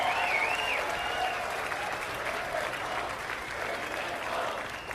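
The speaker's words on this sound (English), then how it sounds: "Ladies and gentlemen, a round of applause for Adrian Woolley leading the charge in the entire country." Audience applause at a live political news broadcast, a steady wash of clapping from a crowd that holds at an even level throughout, with no voices over it.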